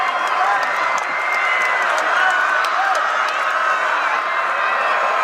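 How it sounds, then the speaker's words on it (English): Student crowd in the Skyridge stands at a high school football game, a steady roar of cheering and applause from a distance, with scattered shouts and whistles and no break in the noise. "The Skyridge students trying to cheer on their defense."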